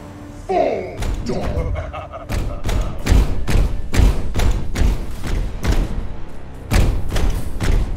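A grenade going off in the Warhammer 40k Chaos Gate Daemonhunters video game, heard as a string of heavy thuds and slamming impacts in quick irregular succession, loud and close, with a voice talking over part of it.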